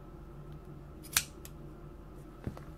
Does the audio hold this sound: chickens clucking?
no